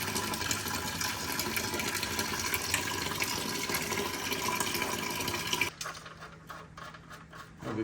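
Water gushes steadily out of a flood-damaged 1973 Pontiac Trans Am, a loud continuous splashing pour that stops abruptly near the end, leaving a quieter trickle and faint background hum.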